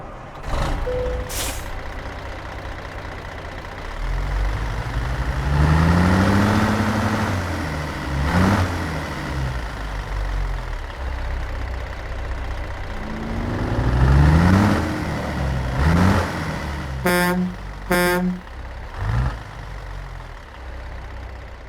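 A heavy truck with a CAT 3406E engine in a video game cranks and rumbles to life, revving up and down, with hissing air brake releases and a burst of rapid beeps.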